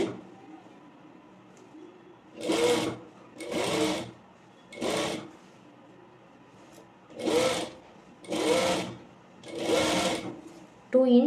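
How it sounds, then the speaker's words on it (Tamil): Sewing machine stitching a curve on a layer frill frock, six short bursts of rapid mechanical whirring separated by quiet pauses, close and clear. "இந்த கர்வில் அழகாக ஸ்டிச் பண்ணி எடுத்துக்கோங்க"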